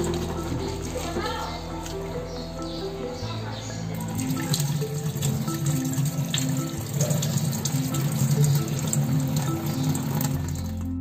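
Kardi fish being rinsed under running tap water in a sink, a steady close splash and trickle with occasional drips and handling noises, no talking.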